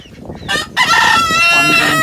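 A rooster crows loudly and long at close range, with other chickens clucking around it, on a rooftop on a rainy morning.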